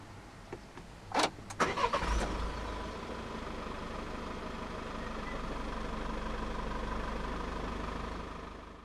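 A 2017 Peugeot Traveller 2.0 BlueHDi diesel van is push-button started: a few clicks, a brief cranking burst, then the engine catches and settles into a steady low idle rumble, close and clear.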